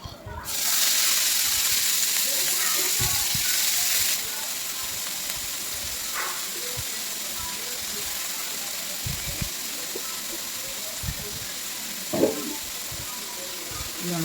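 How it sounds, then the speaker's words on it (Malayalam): Salted food being stirred in a hot pan makes a loud hiss that eases after a few seconds into a steady sizzle, broken by occasional scraping clicks. "ഇത് നല്ലോണം ഒന്ന് മിക്സ് ചെയ്യാം"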